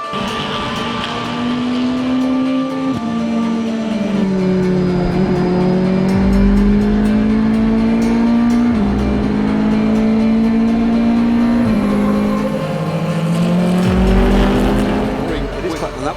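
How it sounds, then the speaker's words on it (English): LMP2 endurance race cars circulate behind the safety car at the Malaysian circuit, with loud engine notes rising and dropping through gear changes as a commentator talks over them. "The safety car is out on track. They have picked up the leader. There are the two LMP2 cars."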